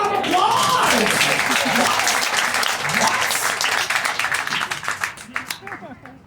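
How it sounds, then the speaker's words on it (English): A live audience at a Gatlinburg comedy show breaks into a loud, sustained round of applause with cheering voices mixed in, gradually thinning and fading toward the end. "Everybody give her a big round of applause!"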